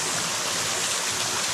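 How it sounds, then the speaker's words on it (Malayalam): A tall waterfall in New Zealand with only a thin flow of water, heard as a steady, broad rushing wash that stays even and fairly loud throughout with no voices. "ഇത് ഇച്ചിരി ഹൈറ്റുള്ള നല്ല വാട്ടർഫാൾസാണ്. വെള്ളം കുറവാണ് കണ്ടോ."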